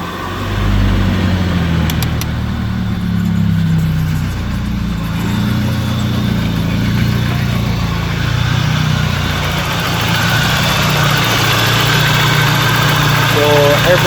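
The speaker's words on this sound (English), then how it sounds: "we're gonna start the engine now, just to make sure that everything is okay" A BMW 318i engine idles steadily after an A/C compressor bearing replacement, a close, even mid-pitched hum with constant vibration and no interruption throughout.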